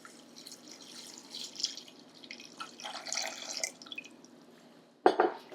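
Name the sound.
pouring soy milk into pie filling ingredients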